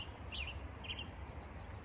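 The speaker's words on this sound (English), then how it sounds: "And just listen, there's crickets" Crickets chirp outdoors beside the Ashnola River, a faint, evenly pulsing high trill repeating about every half second over a low ambient rumble, with no voices.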